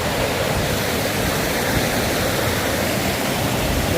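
A river waterfall in rural Kenya pours in a steady, loud broadband rush that holds constant throughout, with no talk over it.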